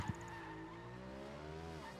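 A deep, bassy motorcycle engine in the racing game Project Gotham Racing 4 revs and holds a steady rising tone, with a brief tire screech near the start.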